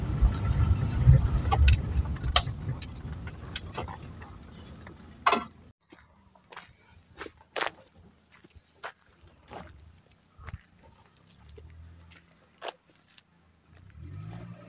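A car reverses on a mountain road, its engine rumbling loudly at first and then cutting away, followed by scattered clicks, taps and faint movement sounds nearby, with no talking.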